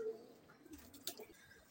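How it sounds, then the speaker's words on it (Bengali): Soft, low pigeon cooing, faint and brief, with a little background rustle. "এই যে কবুতর দেখেন মাশাআল্লাহ"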